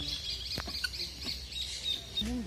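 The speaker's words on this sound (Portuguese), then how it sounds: "Aquele pássaro mais perigoso do mundo lá." A large bird at a zoo gives a few short squawks and calls over steady background noise, with one brief rising call near the end, moderately close.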